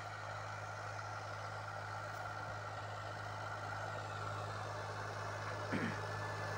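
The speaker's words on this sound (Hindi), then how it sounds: "बहुत बढ़िया चल रहा ट्रैक्टर" A New Holland 3037 tractor of 39 HP runs steadily at a constant idle-like drone, with a low steady hum throughout and a brief faint bump near the end, no speech over it.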